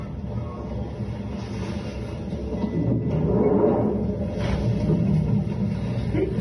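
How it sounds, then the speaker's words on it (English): A London commuter train rumbles steadily, a low continuous drone that swells slightly midway, heard from inside a carriage on a service terminating at West Hampstead. "This train terminates at West Hampstead."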